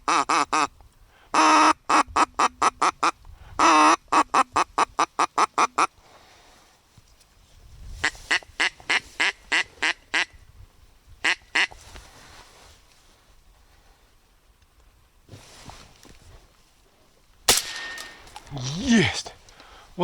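A drake duck quacks in rapid loud bursts on a northern hunting trip, followed by a sharp gunshot and further faint rustling and calls outdoors.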